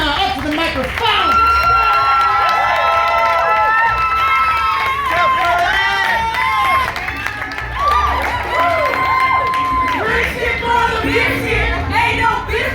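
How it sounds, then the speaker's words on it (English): A poetry slam audience at an arts festival team finals cheers loudly, with whoops, shouts and scattered clapping rising and falling in a dense, close crowd roar. "Let's give that applause rolling as we welcome Team Xenon up to the microphone"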